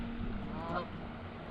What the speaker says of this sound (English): There goes some geese.